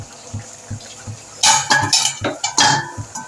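Mutton keema with garam masala is stirred in a pan, a metal spoon clinking and scraping against the pan in quick bursts after a few quieter taps, with a low sizzle under it. No one speaks.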